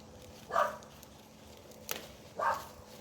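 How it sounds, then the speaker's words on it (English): A neighbor's dog barks out in the distance near a backyard kitchen garden, giving two short, faint barks a couple of seconds apart with a small click between them and no talking. "That's my neighbor's dog over there."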